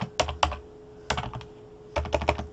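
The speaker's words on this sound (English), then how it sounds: "and I can start typing" Typing on a computer keyboard while filling in an APA title page, close and crisp, with quick clusters of key presses separated by short pauses.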